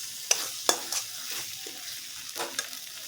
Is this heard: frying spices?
yes